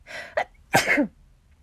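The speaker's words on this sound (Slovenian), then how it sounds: "Gospodarica kihne." A woman sneezes in a quiet room, a short sharp burst with a quick intake before it, then a second louder sneeze, close and alone with silence after.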